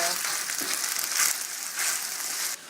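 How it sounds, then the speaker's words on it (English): Chopped onion and beef mince fry in a pan with a steady, fairly loud sizzle and faint stirring scrapes throughout, with no talking. "When you've chopped up all your onion, pop it in the pan with the mince and give it a stir."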